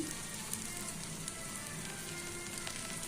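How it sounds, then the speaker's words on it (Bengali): Beaten egg spread around a hot pan for an egg curry gives a faint, steady crackling sizzle with scattered tiny pops, like light rain, and no talking. "ডিমটা আমি চারপাশে ছড়িয়ে দিচ্ছি"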